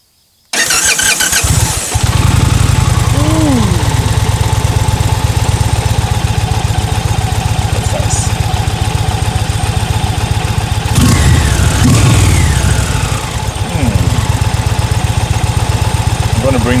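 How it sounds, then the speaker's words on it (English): Indian Challenger Black Horse V-twin motorcycle engine cranks and fires up, then settles into a steady, loud, close idle with a low, lumpy throb, with brief talk partway through. "let's start the motorcycle for a second"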